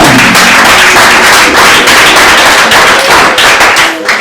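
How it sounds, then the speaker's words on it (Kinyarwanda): A church congregation at a worship service applauds loudly and continuously, a dense close wash of many hands clapping throughout with no break. "dukomere Uwiteka amashyi menshi cyane"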